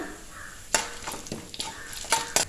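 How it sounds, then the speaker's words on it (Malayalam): Cashews, lentils and dried red chilli tempering in hot oil, a soft sizzle broken by several sharp spoon-against-pan clinks as they are stirred. "ഇതിലേക്ക് കുറച്ച് കാഷ്യൂ നട്ടും കൂടെ ചേർത്ത് കൊടുക്കുവാണ്"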